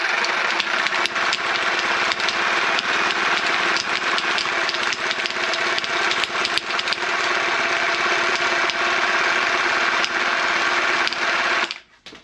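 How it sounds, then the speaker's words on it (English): A Sawzall reciprocating saw shakes a spray paint can in a steady, loud mechanical buzz with a rapid rattle, running unbroken for about eleven seconds before cutting off abruptly. "Get it on our Sawzall"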